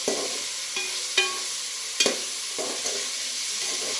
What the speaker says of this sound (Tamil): ஃப்ரைட் ரைஸ் போட்டு நல்லா கிண்டிக்கிறாங்க.